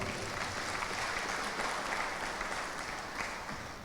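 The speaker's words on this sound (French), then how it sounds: "tant de Mme Mardi-Virin et de Mme Boulon, que je voudrais qu'on applaudisse très très fort" A large audience at a political convention in Guadeloupe applauds loudly and continuously, a dense wash of clapping that fades slightly toward the end.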